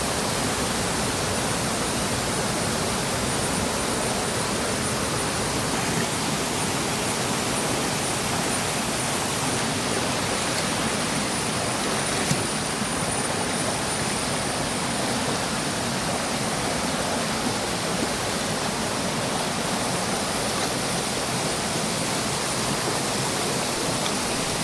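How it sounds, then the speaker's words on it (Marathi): A waterfall in green Konkan forest at Tamboli village near Banda, Sawantwadi, roars as a loud, dense, unbroken rush of falling water that stays constant throughout, with no voices. "समोर कोसळणारा हा धबधबा"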